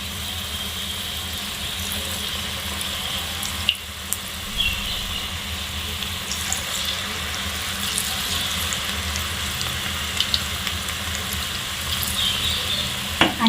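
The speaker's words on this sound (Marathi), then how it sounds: "जसं आपण कांदा भजी सोडतो त्याचप्रमाणे आपण अळूच्या पानांची सुद्धा भजी सोडून घेऊया" Taro leaf fritters deep frying in hot oil over medium heat, a steady, dense crackling sizzle that runs continuously, with a few faint clinks near the start and end and no talk.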